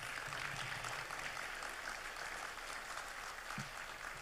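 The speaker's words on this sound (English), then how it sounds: "I think we should give them a warm applause." Steady applause from a crowd fills the whole stretch, a dense, even wash of clapping with no pauses.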